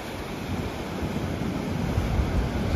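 Ocean swell surges and washes at the entrance of a sea cave, a broad steady roar of waves with wind buffeting nearby.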